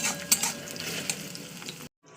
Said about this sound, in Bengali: এবার দিয়ে পেঁয়াজটা একটু লাল করে ভেজে নেবো।